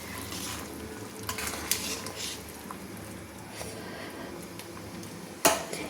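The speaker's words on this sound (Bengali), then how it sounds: "চিংড়ি মাছগুলো দিয়ে আমি একটু খুন্তি দিয়ে কিন্তু নেড়ে নিচ্ছি" Fried prawns get turned with a spatula in a hot pan, a low steady sizzle under occasional scraping strokes and a sharp metal clack near the end, close up with no talking.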